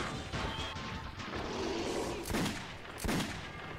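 Gunfire in the video game Metro 2033, a few sharp, loud pistol shots cracking out among crashing impacts against a busy, noisy game background.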